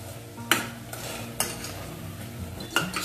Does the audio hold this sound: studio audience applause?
no